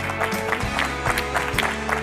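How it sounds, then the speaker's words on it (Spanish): Applause from an audience at an event on disability accessibility, a soft, even spread of clapping hands heard over a steady background hum, continuing for about two seconds. "Un aplauso, por favor, para ella"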